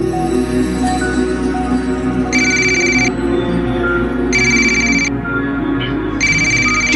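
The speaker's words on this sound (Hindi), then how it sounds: "फोन आया है।" A telephone rings in a household scene, three evenly spaced electronic ring bursts sounding loudly over a steady background hum.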